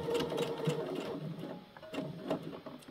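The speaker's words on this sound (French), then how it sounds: "Et je fais un point d'arrêt." Sewing machine running close by to sew a backstitch at the end of a gathered seam, a continuous whirring chatter with slight pulses in speed across three seconds.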